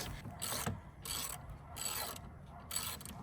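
A ratchet wrench clicks in quick bursts as bolts are loosened and removed from a Jeep Wrangler JKU door, with the faint mechanical ratcheting heard close up in short repeated runs.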